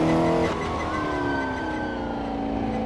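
A 1964 Porsche 904/8 flat-eight engine in Assetto Corsa on the Targa Florio circuit drones loudly, then its pitch drops sharply after half a second and slides gradually lower as the car eases off, with no voices.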